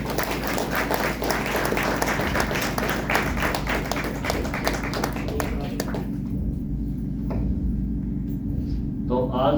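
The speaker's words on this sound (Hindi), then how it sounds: "तो इस बात की आज बाबा के लिए एक बार ताली बजाओ।" An audience at a spiritual discourse claps in a long round of applause, steady at first and then thinning out into scattered claps, with a voice and a low hum running underneath.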